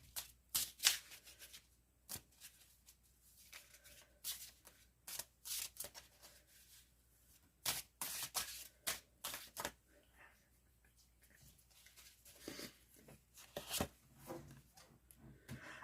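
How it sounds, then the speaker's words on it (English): Tarot message cards are shuffled and pulled in a quick run of crisp, papery riffles and slaps, with bursts and pauses throughout and no voices. "going to go ahead and pull out some message cards from person B for you"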